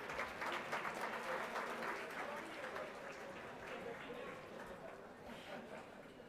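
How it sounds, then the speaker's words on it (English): Audience at a community breakfast applauding board directors as they stand, a steady, fairly faint wash of clapping lasting throughout with some chatter mixed in. "Let's give them a round of applause,"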